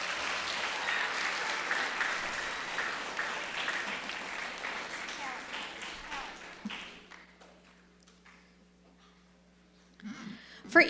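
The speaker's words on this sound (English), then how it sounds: "So let's give them all a big round of applause." Audience applause at a school assembly for a multicultural celebration, at first a loud mass of clapping that thins into scattered claps and fades to near silence, then a short burst of noise right at the end.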